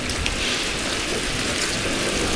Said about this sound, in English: at least we're out of the rain